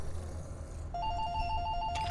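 A phone rings with an incoming call, a faint electronic ringtone of rapid repeating warbling tones that starts partway through over quiet room hum.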